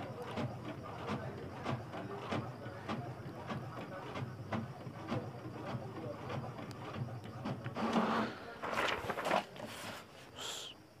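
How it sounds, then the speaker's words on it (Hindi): An HP inkjet printer runs a test page, giving a steady mechanical whir with rhythmic clicks and carriage movements, then a louder stretch of feeding and shuffling near the end, close by. "एक टेस्ट पेज प्रिंट होगा।"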